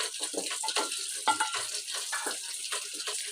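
Turnips, peas and fenugreek being stirred together in a pan, giving a steady close sizzle with soft, uneven scraping and stirring strokes throughout.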